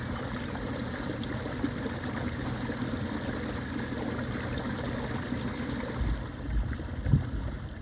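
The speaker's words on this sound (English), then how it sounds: "It's this month's Sound of Solitude, a kayak ride on Sandy River Reservoir." A kayak glides on Sandy River Reservoir, steady soft water lapping and trickling against the hull with occasional faint paddle splashes, close and continuous with no talking.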